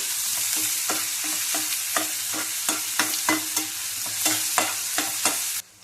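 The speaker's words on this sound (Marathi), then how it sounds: "आता या कांद्याला थोडा लालसर कलर येतो परतून घेऊ" Chopped onions sautéing in a pan, a continuous hot sizzle under a quick, regular run of spatula scrapes and taps, close and unaccompanied, ending abruptly.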